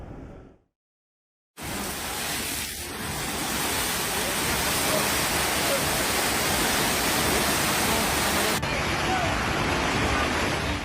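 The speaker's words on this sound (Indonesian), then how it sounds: "Inilah detik-detik meluapnya air sungai di wilayah Kecamatan Leato, Kota Gorontalo yang menerjang permukiman warga" Floodwater from an overflowing river surging through a residential neighbourhood in Leato, Gorontalo, Indonesia, after days of extreme weather. After a brief silence, a steady broadband roar of rushing water runs loud and continuous to the end.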